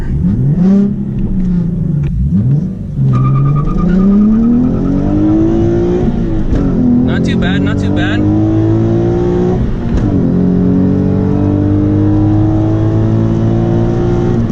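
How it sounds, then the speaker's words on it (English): A Nissan 370Z launches hard and keeps accelerating, its engine note sweeping up through several gear changes, loud and close from inside the car, with someone speaking briefly over it. "Let me just get a really good spot where I can launch this car."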